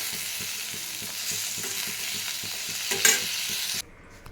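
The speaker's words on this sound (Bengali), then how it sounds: "এটা একটু ভাজা ভাজা হোক, তারপরেই নামাবো।" Tomato frying with pointed gourd in a hot pan, a continuous sizzle broken by steady rhythmic spatula scrapes, close and loud, cutting off abruptly near the end.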